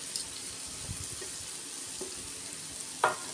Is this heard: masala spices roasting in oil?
yes